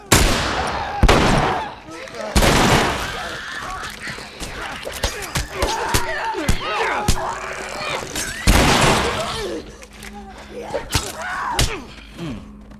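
Gunshots ring out during gameplay of The Last of Us Remastered at Lincoln High School. A few loud, sharp cracks are spaced across the span and mixed with thuds, clatter and game noise, and someone talks between the shots.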